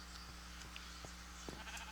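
Sheep bleats in Minecraft, a few short blocky calls spread across a steady low game-ambience hum, moderately faint and with no talking.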